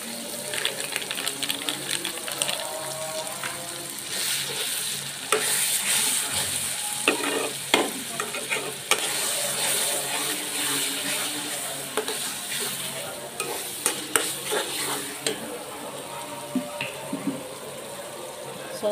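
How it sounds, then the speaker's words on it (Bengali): Spices being stir-fried and worked around a pan for a home-style chicken roast, with steady sizzling and scraping stirs running throughout at close range, broken by sharper clinks and louder bursts. "ভালো করে মশলাটাকে কষায় নেব।"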